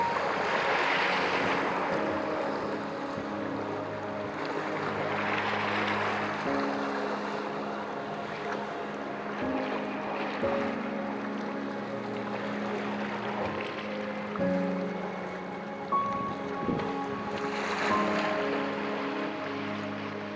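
Sea waves roll in along the Jeju coast at sunset, a steady wash of surf with slow swells under a low rumble and wind, with no one talking.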